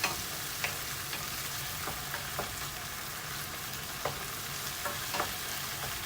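Bean sprouts stir-fry with soy sauce in a pan, giving a steady close sizzle with repeated scraping clicks of a spatula stirring, no voices.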